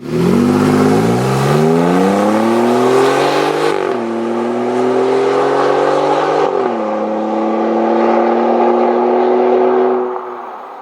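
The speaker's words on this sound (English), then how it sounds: "the last thing in the back is the exhaust. I'll go ahead and let you guys take a listen." A Jeep Wrangler engine revs close up through a loud aftermarket exhaust. Its deep growl climbs in pitch, drops, then holds at a raised idle.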